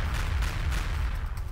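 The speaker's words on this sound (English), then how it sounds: "I'm basically playing a panda, dual-wielding pistols, fighting pigs that explode into," Pistol fire and explosions from the top-down shooter Feral Fury, a dual-pistol panda blasting pigs that burst apart, form a dense, continuous wash of rapid shots and booms with no talk.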